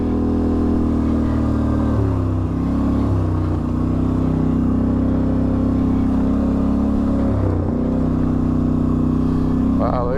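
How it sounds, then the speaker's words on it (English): Loud ATV exhaust on an overland trail ride in Arizona, a continuous close rumbling drone with shifting engine pitch and brief throttle changes, dominating throughout. "My exhaust is pretty loud."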